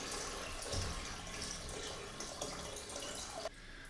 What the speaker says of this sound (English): So just get that last piece of water out,